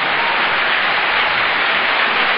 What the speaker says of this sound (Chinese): 我们再继续热烈鼓掌，让他们在后台听得到啊